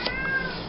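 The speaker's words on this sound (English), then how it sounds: "My cat walks in the room. He's just meowing." A cat gives a drawn-out, wavering meow nearby, short and fairly faint, with no talking.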